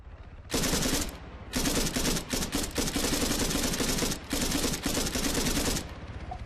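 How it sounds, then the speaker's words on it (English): Sustained automatic gunfire from Arma 3 in a King of the Hill match, loud, dense bursts with short gaps, rapid fire continuing nearly throughout. "I thought he was around the corner there, so started shooting before I went around the corner"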